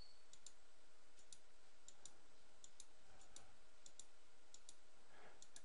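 Computer mouse clicks in steady succession while working with a pen tool in image-editing software, light close ticks spaced about every half second over faint background hum.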